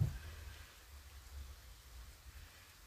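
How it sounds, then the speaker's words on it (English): Hard rain falling outside, a steady broadband hiss of drops on surfaces, continuous and fairly faint throughout with no talking. "Starting to rain hard outside."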